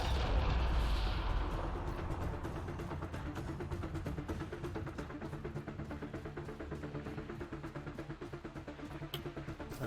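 Gunfire in the video game Mass Effect Andromeda, a fast, regular stream of shots running steadily for several seconds after a heavier boom at the start, fairly close and without speech.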